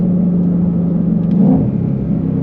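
Ford Mustang Shelby GT350R or GT500 Track Pack engine rumbling with a steady low roar that swells briefly as it downshifts, loud and close, with no talking.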